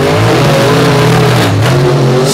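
Monster truck engines roar loudly and continuously during a race at a 2023 Monster Truck Invasion show, the pitch rising and dipping as drivers rev hard toward the finish.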